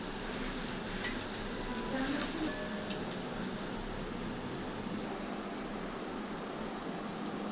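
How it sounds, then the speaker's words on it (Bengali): Masoor dal fritters frying in sunflower oil give a steady, dense sizzle that stays even and close throughout, with faint background noise. "তো এবার একটা একটা করে দিয়ে ভেজে নিতে হবে"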